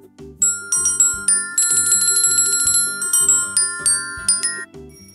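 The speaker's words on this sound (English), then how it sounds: "Where is the bell?" A bright bicycle-style bell rings in repeated quick trills, loud and close, alongside a light plucked accompaniment, with no one talking.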